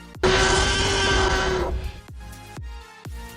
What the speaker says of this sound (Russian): А потом издает рев слоненка.